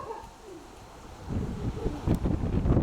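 A pigeon coos softly amid outdoor wind noise, the low cooing growing a bit louder toward the end.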